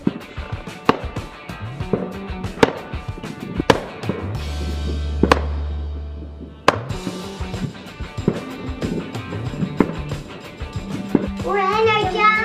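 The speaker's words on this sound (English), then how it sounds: "We had a brilliant night watching the fireworks." Bonfire night fireworks bursting repeatedly, sharp bangs and crackles at irregular intervals with a deep rumbling boom in the middle, with children's voices and chatter heard between the blasts.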